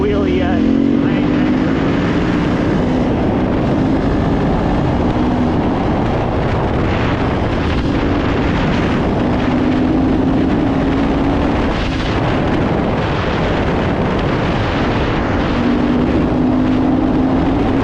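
A 2024 GasGas ES 350 dirt bike engine roars loudly up close, revving and climbing through the gears in repeated rising pulls amid heavy wind buffeting.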